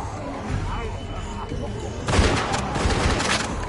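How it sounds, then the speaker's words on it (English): Rapid gunshots in The Walking Dead video game, a burst of many loud cracks overlapping into a dense volley in the second half, with a voice speaking over quieter stretches. "Oh my gosh, so many shots"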